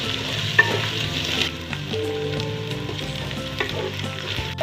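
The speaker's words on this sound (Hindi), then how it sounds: "इसमें मैंने अदरक लहसुन का पेस्ट डाल दिया है और इसको मैं 1 से 2 मिनट फ्राई करूँगी" Ginger garlic paste sizzles and spits in a hot pan while cooking a Lahori chicken and chickpea curry, with a continuous crackling fry, occasional stirring scrapes and no voices.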